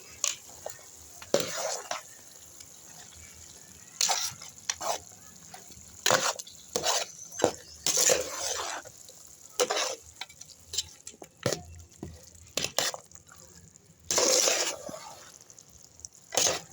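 Ginger garlic paste sizzles faintly in masala for mutton curry while a spoon stirs it in irregular scraping bursts, close, with quiet gaps between strokes.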